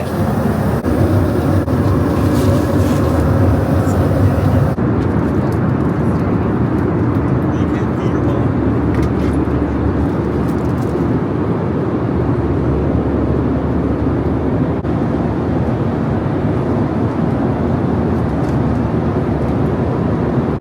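Steady, loud cabin roar of an airplane in flight, a constant broadband engine and air rush filling the whole stretch, with a voice talking over it near the start.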